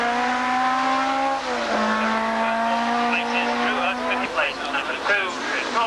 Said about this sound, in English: 27 coming through here, Chris Wilson in his Lotus Elan.